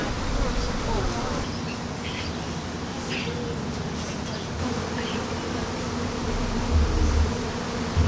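Swarm of honeybees crawling up onto a person's neck and chin to form a bee beard, a loud, dense, continuous buzzing very close to the ear, steady throughout with a faint voice beneath.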